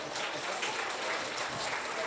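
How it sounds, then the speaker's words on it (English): Audience clapping at a school student-of-the-month assembly, a steady dense wash of many hands held at even volume throughout, with no voices standing out. "Nobody knows what they're clapping for."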